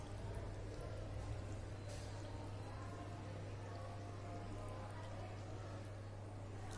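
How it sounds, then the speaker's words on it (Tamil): Water pours steadily over grated potato being rinsed in a kitchen, a continuous broadband splashing wash at close range with a low steady hum beneath it and no talking. "மேலே கொஞ்சம் தண்ணி ஊற்றி நல்லா வாஷ் பண்ணி எடுத்துக்கலாம்."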